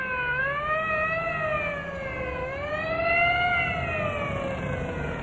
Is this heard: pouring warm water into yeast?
no